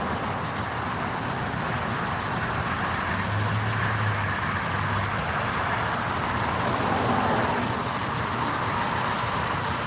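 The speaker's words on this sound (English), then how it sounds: "Lots of road noise." Steady broadband road noise inside a moving car, a constant low rumble and hiss with no distinct events, heard alone at moderate level.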